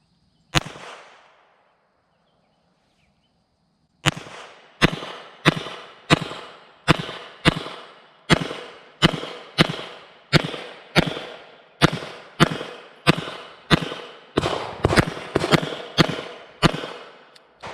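Sharp gunshots from a Sig Sauer P320 Compact pistol fitted with a Trijicon sight, a Wilson Combat grip and an Armory Craft trigger, fed from an extended stick magazine: one lone shot, a pause, then a long steady string of about twenty loud close shots.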